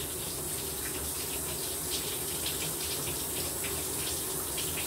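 Steady rushing spray of running water, continuous and fairly close, with no voices over it.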